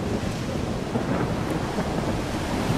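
Thunderstorm in the video game STALKER 2, a steady loud rumble of thunder and heavy rain with constant dense noise throughout.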